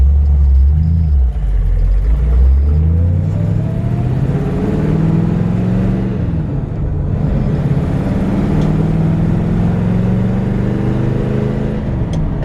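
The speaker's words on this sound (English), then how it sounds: "This is a 1964 Ford Fairlane 500. We're going to take it for a drive." A 1964 Ford Fairlane 500 with a four-speed and a rebuilt early-90s 302 V8 drives along, its engine rumbling loudly from inside the car with rising and falling pitch as it accelerates and shifts.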